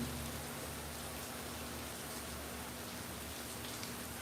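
Steady rain falls continuously, a soft, even hiss of drops on surfaces with a faint low hum underneath, with no talking.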